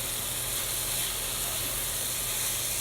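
Chicken fajita mix sizzles in a hot pan, giving a steady, dense, close hiss that stays even throughout with no voices.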